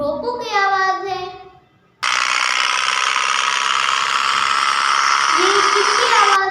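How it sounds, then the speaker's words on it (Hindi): A tractor engine runs as a loud, steady, rattling drone for several seconds, with someone speaking just before it. "ये ट्रैक्टर की आवाज़ है।"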